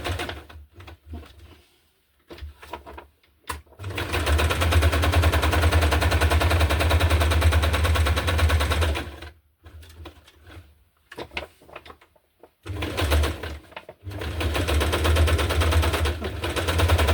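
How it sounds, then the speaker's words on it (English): A sewing machine stitches through a handmade junk journal in long steady runs of rapid buzzing. Short pauses and handling sounds break up the runs. The machine is close and fairly loud, and no one speaks. "I think I will go on here and then sew around the line here"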